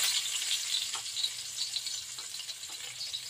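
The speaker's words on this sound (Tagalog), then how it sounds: "magigisa na po tayo. Ayan, meron po tayong prepare na garlic at saka ginger" Garlic and ginger sauté in a hot pan for a Filipino vegetable stir-fry, a steady bright sizzle with occasional soft stirring clinks, close and continuous with no talking.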